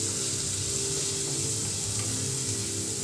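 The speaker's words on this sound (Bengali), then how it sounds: "যাতে টমেটোটা নরম হয়ে যায় সেই অবধি পেঁয়াজ আদা রসুন টমেটো ভেজে নিতে" Onion, ginger, garlic and tomato frying together in a pan for a paneer dish, giving a steady, dense sizzle that carries on unbroken and fairly loud throughout.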